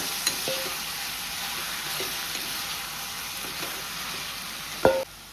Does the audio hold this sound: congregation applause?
no